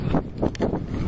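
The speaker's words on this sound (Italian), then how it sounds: "il vento" Rough low rumbling of wind buffeting a microphone, gusting in uneven pulses, close and fairly loud.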